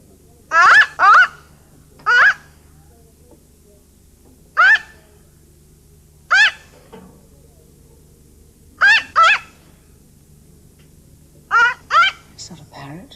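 A mynah bird gives a series of short, sharp squawking calls, about nine bursts spaced irregularly, some in quick pairs, fairly close and loud over a quiet indoor background.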